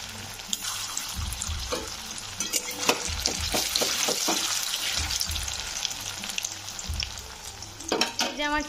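Chhana bora (cottage cheese fritters) fry in oil in a kadai with a continuous close, crackling sizzle, broken by occasional scrapes and stirring clatter from a utensil.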